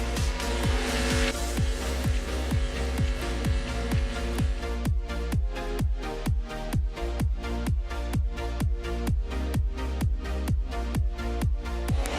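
Speedway race cars roar around the dirt track at Gympie Speedway, a loud continuous engine drone with a rapid rhythmic pulsing throughout.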